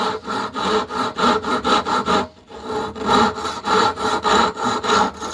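A hand saw cuts wood for a six-string lyre in steady back-and-forth strokes, close and loud, with one short pause midway before the rasping strokes resume.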